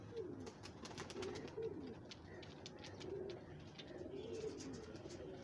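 Pigeons at a pigeon show in Lahore coo softly and repeatedly over a faint, busy background.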